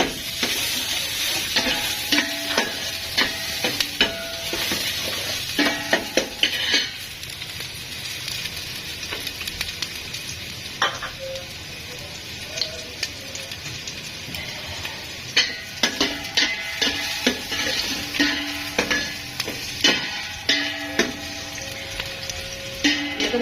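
Onion frying in ghee sizzles steadily while a utensil stirs and scrapes the pan in repeated bursts, close and fairly loud, with no talking.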